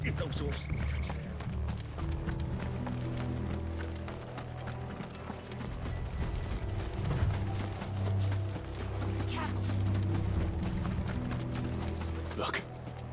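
Hooves clip-clop at a trot amid rattling wheels and creaking mechanisms in the video game Final Fantasy 16, steady and fairly close, with voices talking over the movement.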